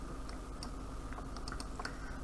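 Faint, quick computer keyboard key presses and mouse clicks tap out an irregular pattern of small, light clicks over a quiet, steady background hum.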